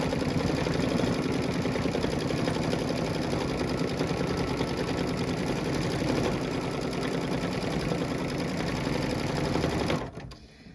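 An embroidery machine sews a placement line for an appliqué flower in red thread, a steady close rapid stitching hum running continuously for about ten seconds before stopping.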